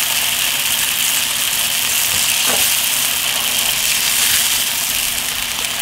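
Scallops searing in a pan with wine, a steady loud broadband sizzle and bubbling that fills the whole stretch with no talk over it.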